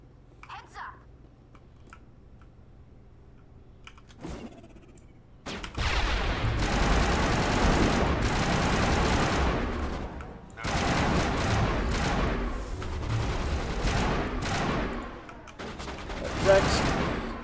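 Gunfire in the video game Mass Effect, a quiet opening with a few faint sounds, then sustained loud bursts of automatic fire and heavy shots that go on and off, with a voice briefly audible.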